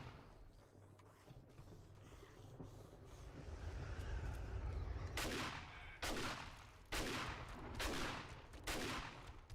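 Gunfire in the survival game 7 Days to Die, in a solo match: after a low ambient rumble, four loud, evenly spaced shots ring out about a second apart, each sharp and close.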